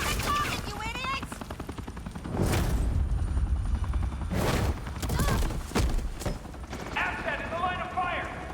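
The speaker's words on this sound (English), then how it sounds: "Asset in the line of fire! Don't shoot!" Gunfire in a Batman video game, with bursts of shots and game mechanisms among loud scene noise, while characters talk over much of it.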